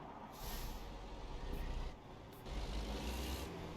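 A fire engine in a driving video game hisses with long air-brake releases, two broad rushing bursts over a low engine rumble, fairly quiet with no voices.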